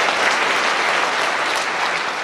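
A church congregation at a deaf-ministry service applauds, a loud, continuous wash of many hands clapping at once, steady and unbroken from start to finish with no voices over it.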